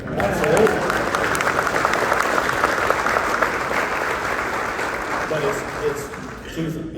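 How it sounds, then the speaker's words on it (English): An audience at a political gathering claps in a sustained round of applause for several seconds, loud and full, while a speaker keeps talking over it. "I'll take that round of applause back there."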